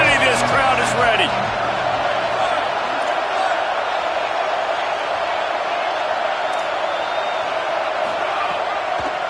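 Dense football stadium crowd at an Ole Miss game roars steadily and loudly throughout as a third down approaches, with a brief burst of voices near the start and no clear break in the noise.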